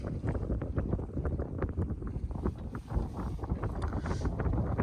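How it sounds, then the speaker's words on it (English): Strong wind on the beam buffets the microphone in gusty rumbling bursts aboard a sailboat, with a broad rushing noise of open-water sailing underneath. "The wind is on our beam."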